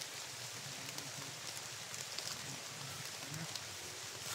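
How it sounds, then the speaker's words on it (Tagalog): Rain falling outdoors in the Philippines, heard as a faint, steady hiss that continues throughout with no clear breaks. "Ulan tol."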